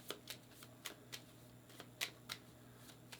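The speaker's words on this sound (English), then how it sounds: "Shuffle all little project cards to form the little projects deck" Small project cards for a bookstore-themed board game being shuffled by hand, a series of crisp riffling snaps spaced irregularly across a quiet room, fairly close, with no talking.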